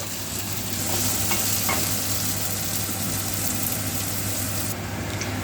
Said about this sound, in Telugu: అల్లం ముక్కలు వెల్లుల్లి అన్నీ వేసుకొని దూరగా వేయించుకోవాలండి రెడ్ కలర్ వచ్చే వరకు